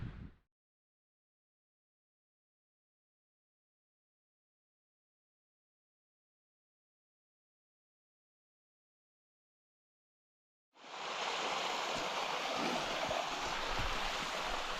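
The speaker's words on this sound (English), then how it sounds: "So this is the first fall I've seen in this MacKay Brook Nature Reserve." A small waterfall on a forest brook in the MacKay Brook Nature Reserve, Nova Scotia, rushes steadily and close by, entering after a long stretch of silence and continuing as a dense, even roar.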